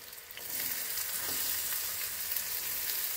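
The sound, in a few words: finely chopped ginger and onion frying in a pan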